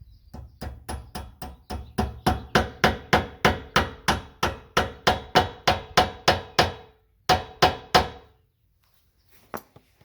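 Metal lock tabs tapped into place on a trailer wheel bearing, a long run of evenly spaced sharp hammer taps, close and loud, followed by a pause, a few more strikes and a single last tap.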